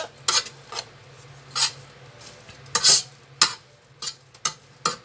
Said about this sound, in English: I want to add a tiny, tiny bit of this chili powder, just a little. Okay. Let's stir that all up.